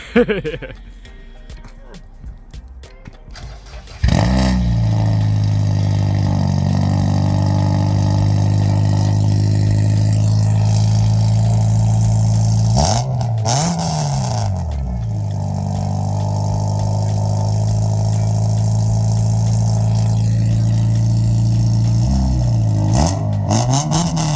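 A Honda Integra Type R DC5 with a straight-pipe exhaust starts abruptly after a few seconds of near-quiet. It settles into a loud, raspy idle with a couple of sharp blips of the throttle, and voices talk faintly underneath.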